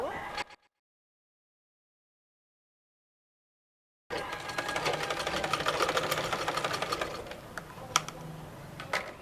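Sewing machine stitching a bolster pillow cover, a brief burst of stitching followed by several seconds of silence, then a long steady rattling run, close and fairly loud.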